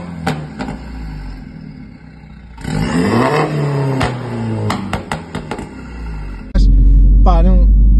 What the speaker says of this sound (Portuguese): deste barulho fabuloso que o carro faz